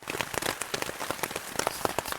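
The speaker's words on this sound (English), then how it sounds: "So as you can see, that's rain droplets." Rain patters steadily on a tent at night, a dense scatter of close droplet taps with occasional louder drips, with no voices.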